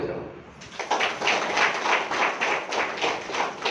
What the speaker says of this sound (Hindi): राइट, ताली बजाओ